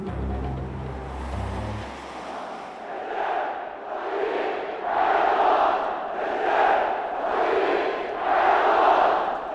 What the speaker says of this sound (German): Jubel empfängt den Staatspräsidenten beim Parteitag seiner AKP im Mai.